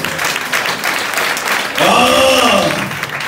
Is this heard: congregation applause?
yes